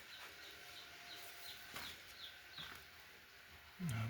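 Faint clucks and soft peeps from farmyard chickens with newly hatched chicks, scattered and quiet against low background hiss, ending in a brief louder low thump.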